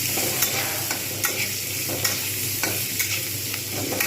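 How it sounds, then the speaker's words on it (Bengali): Onions fry in oil in a pan, a close, steady, dense sizzle with light rhythmic scraping of a stirring spoon every half second or so; no talking. "এবার আমি এতে পেঁয়াজটা ভেজে নেবো"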